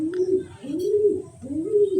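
Pigeons coo in a steady, repeated rhythm while pecking at grit, with three rolling coos close by and a brief chirp near the start.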